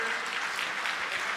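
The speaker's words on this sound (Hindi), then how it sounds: "जोरदार तालियां बजाकर उनका स्वागत करें" Steady crowd applause at a BJP political rally in Bahadurgarh, a dense continuous wash of clapping throughout with no pauses, as a large audience welcomes the chief minister.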